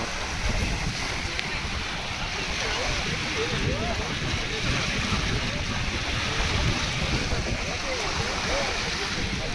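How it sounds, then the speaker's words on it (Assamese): Steady wash of water and wind noise, with small waves lapping continuously close by on Umiam Lake, Meghalaya; a voice may murmur faintly underneath. "কি ধুনীয়া এটা ঢৌ আহি আছে"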